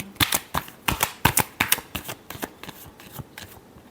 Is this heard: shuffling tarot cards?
yes